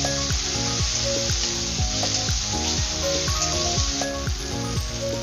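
Ground cumin and ginger paste sizzles in hot oil, a loud, steady hiss close up, with a repeating pattern of falling musical tones running underneath.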